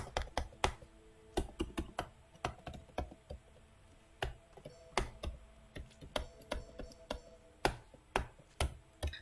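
Rapid, close keystrokes clatter on a computer keyboard during a video game session, tapping in uneven bursts of clicks with brief pauses, fairly quiet and with no talking.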